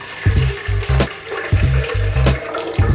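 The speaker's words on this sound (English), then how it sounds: "So pour some water" Water pours into a Vitamix blender jug in a few gushing bursts with brief pauses, the splashing loud and close, with hollow low sloshing as the container fills.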